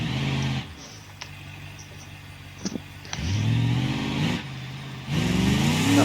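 A car engine in the video game BeamNG.drive revs hard before a jump, with rising throttle bursts separated by idle, sweeping up in pitch each time; loud and close, without talk.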